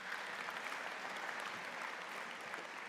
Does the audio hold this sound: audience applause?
yes